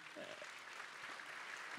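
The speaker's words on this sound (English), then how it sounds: "I'll give you a minute to clap again." A crowd at a conservative political summit applauds continuously through the whole short stretch, a dense, even wash of clapping heard somewhat distant.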